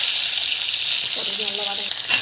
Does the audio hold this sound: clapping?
no